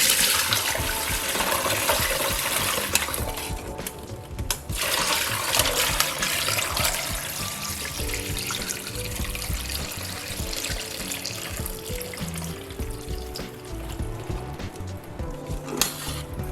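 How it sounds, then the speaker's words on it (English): Cooled Jamaican sorrel drink is strained, a continuous splashing, trickling pour of liquid that rises and falls in intensity with brief pauses, fairly close and without talk. "I'm just gonna go ahead and strain this off."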